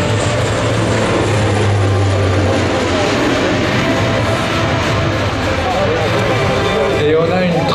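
A Dash 8 Sécurité Civile water bomber aircraft during a water drop at an air show, its loud continuous propeller-engine drone filling the whole span while a voice speaks over it.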